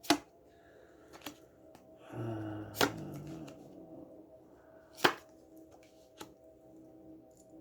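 Tarot cards being shuffled and laid out on a table for a reading, a soft riffling shuffle with several sharp taps and slaps as cards land, close and fairly quiet with no talk.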